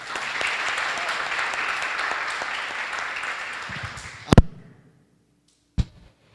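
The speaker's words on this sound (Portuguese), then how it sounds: "Eu fiquei esperando vocês aplaudir o Senhor Jesus" A church congregation applauds at a service, a dense, fairly close wash of clapping that fades out after about four seconds, followed by a couple of sharp knocks or bumps in near silence.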